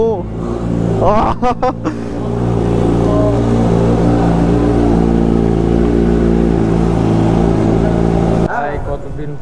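A Kawasaki Z900 motorcycle engine runs at a steady, close, loud idle with a continuous low rumble. A few brief voices come in near the start.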